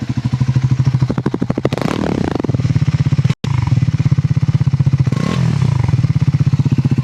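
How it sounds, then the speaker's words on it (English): Triumph Scrambler 400 X motorcycle engine at idle, blipped twice into sharp revs that rise and fall back to a loud, close, fast-pulsing exhaust burble. "Let me rev the bike and show you now."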